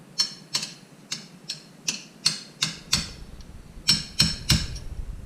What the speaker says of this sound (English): From here, we're going to use the punch and the hammer.